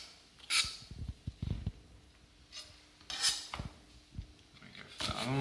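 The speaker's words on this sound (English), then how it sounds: "It's really important with onion that you slice it into itself because then you'll have less tears" A knife cuts through a fresh onion on a board in short, crisp chops and scrapes, a few scattered strokes with quiet pauses between them.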